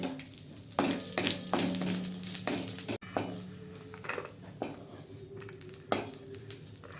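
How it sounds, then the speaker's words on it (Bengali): Cashews and raisins fry gently in melted ghee in a pan, giving a steady close sizzle broken by scraping and clinking of a metal utensil, with no talking. "ঘিটা যখন গলে গেল ওর মধ্যে দিচ্ছি আমি একটু কাজু আর কিশমিশ একটু হালকা করে ভেজে নেব"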